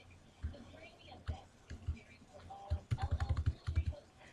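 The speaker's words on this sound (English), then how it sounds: "Press backspace several times to erase the last 4 words." A computer keyboard key is tapped repeatedly in a quick burst, near and crisp soft clicks that start spaced out and then fall into a rapid run of about a dozen presses toward the end, while someone speaks quietly.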